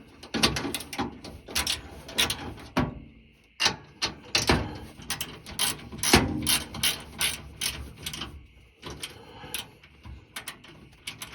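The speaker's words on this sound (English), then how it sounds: "So right now this is the loosening, right? So lefty loosey, right? But when you free ratchet back," Craftsman socket ratchet loosening a bolt on a Miata rear swaybar brace, giving close, crisp clicking in repeated bursts with short gaps as the handle swings back and forth.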